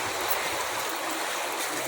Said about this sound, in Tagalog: kasi malakas agos dito